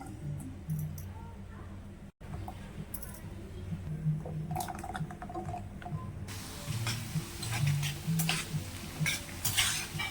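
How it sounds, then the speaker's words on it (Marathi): Potatoes slip into hot oil for a Bihari-style dish, followed by steady frying sizzle with occasional stirring clinks of a utensil against the pan, close and moderately loud throughout. "तेल सुद्धा इथं गरम झालेले यामध्ये ना आपण हे बटाटे सोडून घेऊया"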